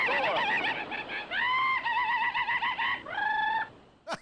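A man imitates a rooster with his voice, giving a run of loud, close crowing and clucking calls in quick succession with short pauses between them, then a brief click at the end.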